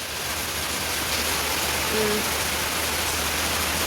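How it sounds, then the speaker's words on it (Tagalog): Steady rain falling near the Agusan River, a continuous even hiss with no clear drops or voices, holding level for the whole stretch. "Tingnan nyo ang ulan."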